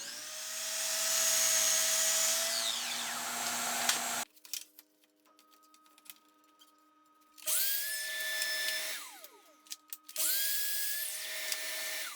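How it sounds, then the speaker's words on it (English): A power saw cuts wood face frame pieces against a stop block: a loud high whine runs for a few seconds, drops to quiet clicks, then two more shorter cuts follow. "now I can go ahead and utilize that stop block and cut all my pieces"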